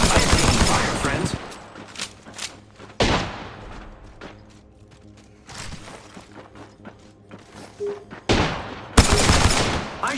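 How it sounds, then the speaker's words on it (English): Video game gunfire crackles in dense bursts of rapid shots with short lulls between volleys, loud and close, with some talk in between. "I am taking fire, friends"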